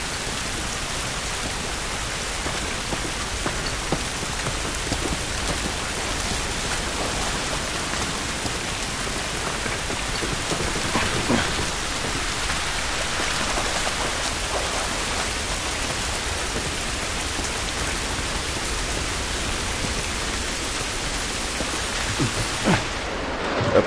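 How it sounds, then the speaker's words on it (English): Steady, loud rain pours throughout the opening of The Last of Us video game, a dense continuous wash of falling water with no talk over it. "This rain ain't gonna do us any good."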